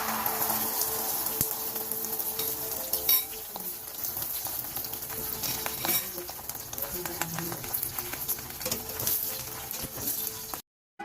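Korean japchae noodles with salt being mixed in a pan, a continuous frying sizzle under scattered utensil taps and scrapes, close, ending abruptly.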